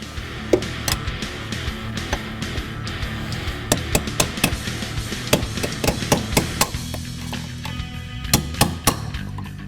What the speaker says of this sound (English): We're going to hammer those out, replace them with the new ones